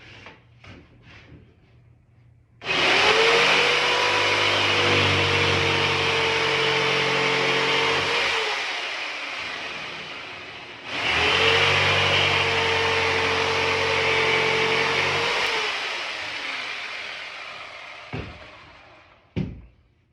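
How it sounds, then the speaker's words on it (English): A jigsaw cuts out pieces, likely from wooden stock, in two loud sustained bursts of about seven and five seconds. Each burst has a steady buzzing drone and ends in a short pause, with a few knocks and clicks between and after the cuts. "we're gonna cut these out with a jigsaw"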